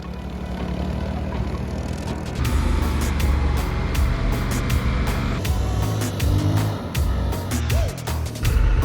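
A motorbike rides along a beach in Baja near Ejido Eréndira, its engine a steady mid-distance drone under wind buffeting and sharp clicks and thumps.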